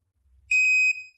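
A single short, high electronic pairing beep from a petrainer iPETS 610 dog training collar, clean and close, with a faint low thump just before it.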